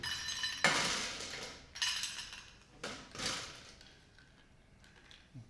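Ice clinking against a cocktail glass while it is chilled, made for a Whizz-Bang drink: a few bright, separate clinks and rattles spaced a second or so apart, close and fairly loud, with no talking.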